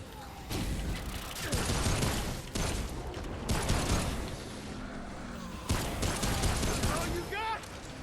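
Gunfire in the video game Remnant From The Ashes comes in several loud bursts of repeated shots separated by short pauses, with a voice talking over parts of it.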